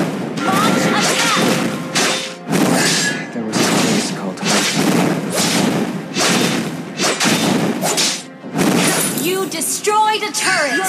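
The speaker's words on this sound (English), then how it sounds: "Your team destroyed a turret!" A turret is destroyed in the Mobile Legends video game amid loud, repeated thuds, crashes and shattering impacts from battle effects, with brief pauses between bursts.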